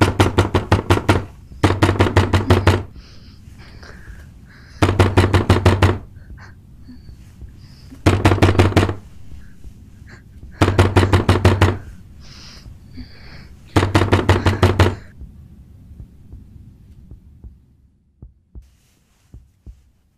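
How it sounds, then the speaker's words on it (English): Loud banging on a door in a scary movie, six separate bursts of rapid heavy knocks spaced a few seconds apart, each burst close and forceful, with quiet gaps between and the sound fading out after the last. "Who's banging the door so loudly?"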